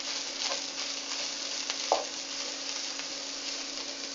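Tomato puree stirred into olive oil in a pan gives a quiet, even sizzle with a couple of soft scraping stirs, no voices over it.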